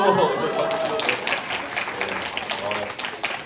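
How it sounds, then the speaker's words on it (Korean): Applause from a lecture audience, steady dense clapping that fades slightly over a few seconds. "박수."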